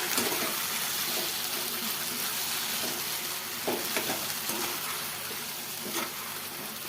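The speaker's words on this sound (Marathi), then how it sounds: "आणि हे बघा ह्या वाटणामध्येच हळद टाकली मी आणि ते पण याच्यात टाकून देते आता मी आणि चांगलं परतून घेते" A steady hiss and sizzle comes from green masala paste with turmeric being sautéed in a pan for a brinjal curry. Faint stirring scrapes sound now and then under the constant frying noise, with no talk.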